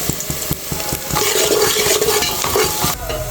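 Cumin seeds drop into a pan of frying onion and chili, giving a close crackling sizzle with sharp stirring clicks and scrapes throughout.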